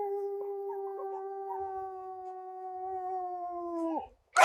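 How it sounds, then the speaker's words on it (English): A small animal in a forest tries to howl like a wolf, holding one long, steady, close howl for about four seconds before it breaks off with a sharp downward drop, followed by a brief noisy burst. "I was gonna teach this guy how to howl like a wolf."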